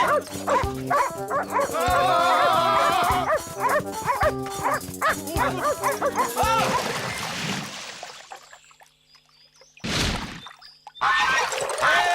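Several dogs bark loudly and excitedly in a chaotic scene, mixed with a shouting voice and a splash, then the noise drops away before short bursts return at the end.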